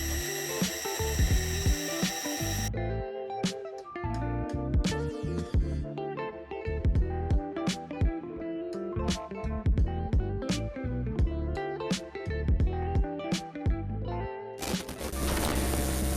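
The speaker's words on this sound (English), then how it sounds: "So now we're just gonna cut that out, and then we'll grind just to the lines." Knife blade for an EDC fixed-blade being cut out and ground in a workshop, a steady whining power-tool drone with rapid ratcheting, clicking irregularities, loud and continuous.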